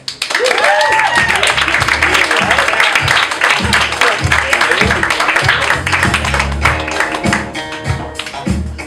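A comedy club audience applauds as comedian Ian Dyck takes the stage, with loud, sustained clapping and cheering that stays dense and steady throughout, with a few voices rising briefly near the start.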